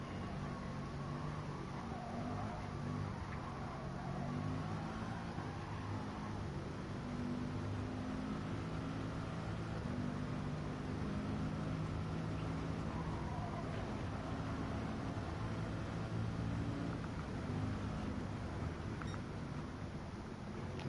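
A loud car engine hums steadily and evenly for the whole stretch, with no voices over it.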